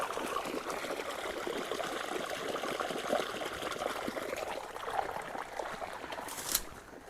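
Water flowing on an organic farm growing banana, coconut and sapota, a soft continuous trickling and babbling stream with faint splashes, steady and fairly quiet, no talking.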